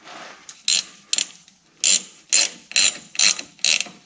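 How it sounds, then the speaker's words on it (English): A hand pump working rear differential fluid into a Ford F-150 axle gives a series of sharp mechanical clicks and ratcheting strokes, about eight close, evenly spaced bursts with short pauses between. "Got my hand pump full of fluid here. We're gonna fill this guy up."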